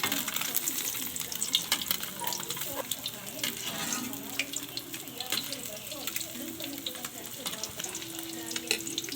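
Steady hiss and crackle of a small-fish omelette (tortang dulong) frying in hot oil, close and continuous, with faint clinks and movement underneath.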